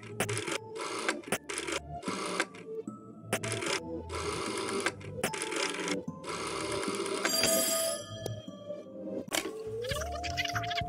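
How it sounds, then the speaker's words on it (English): A telephone rings again and again in the video game There Is No Game, sounding as an old-style electric bell in repeated bursts between short pauses, mixed with clicks and light game sounds. "That Watson gentleman needs to pick up the phone instead."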